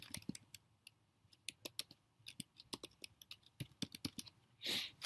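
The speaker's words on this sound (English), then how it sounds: "I'm going to type in Lucilda" Quick irregular keystrokes on a computer keyboard, close and crisp, in short bursts with brief pauses, ending in a soft rustle.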